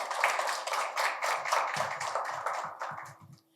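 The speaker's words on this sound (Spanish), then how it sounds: "Un aplauso para todos ustedes" Brief burst of audience clapping at the opening of a security and defense talk, sharp hand claps close by, thinning out over a few seconds.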